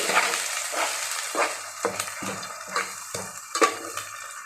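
Masala with coriander, curry leaves and mint fries for an egg and chicken biryani, a close hiss of sizzling broken by repeated rhythmic scrapes and clinks of a spoon stirring against the pan.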